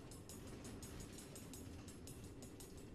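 Train rolling along rail tracks in the video game Minecraft: Story Mode, a steady, low rumbling hum with rhythmic clicking of wheels over track joints, constant and fairly close throughout.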